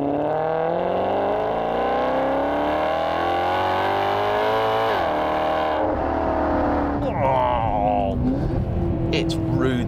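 A 2018 Maserati GranTurismo MC engine revs from close inside the cabin, rising in pitch, then drops sharply through upshifts before climbing again, loud and throaty, with a voice talking over part of it.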